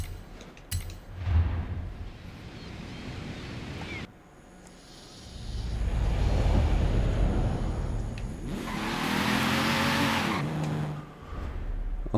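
A 1981 BMW racing in Forza Horizon 5, its engine revving loudly and continuously with rising and falling pitch, tire noise underneath, close and dominant throughout.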